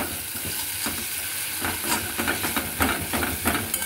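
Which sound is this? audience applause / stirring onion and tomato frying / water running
stirring onion and tomato frying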